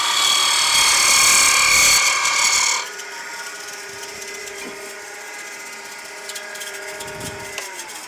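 Wood lathe spinning a top as a gouge tapers the side next to the chuck, a loud bright cutting roar for the first three seconds that drops to a steady, quieter motor hum with faint tool scrapes.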